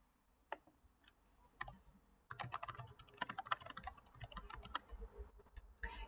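Typing on a computer keyboard while filling in an online administrative form: sparse single key taps at first, then a brisk run of clicky keystrokes, close and fairly quiet, with no voices.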